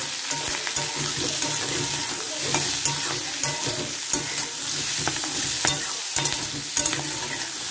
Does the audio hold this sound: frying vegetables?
yes